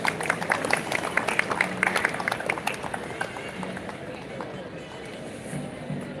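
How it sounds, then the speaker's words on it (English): An audience at a graduation ceremony claps in a dense patter that is strongest at first, then thins and fades over several seconds. "Please give a good round of applause."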